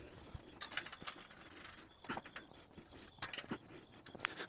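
Metal clicks, ratcheting and scraping from M6 bolts being fitted by hand to a car cargo barrier frame, in sparse close bursts with quiet gaps.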